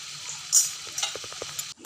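Chana dal vada fry in a pan of oil and get flipped, a bright continuous sizzle with a few soft scraping and clinking touches from the turning, ending abruptly.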